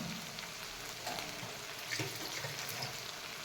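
Steady, low sizzling of ground onion-coconut masala paste frying in oil in a pan, a continuous faint hiss with a few soft stirring scrapes and no talk.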